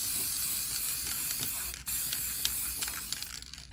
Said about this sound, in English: I've got this clear acrylic coating. You just spray it on